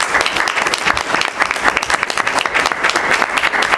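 A room of people at a school district board meeting bursts into loud, continuous clapping, a dense patter of many hands throughout.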